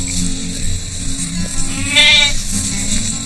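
A lamb on a frontier homestead bleats once in a wavering cry, close and clear, over low background rumble and faint outdoor noise.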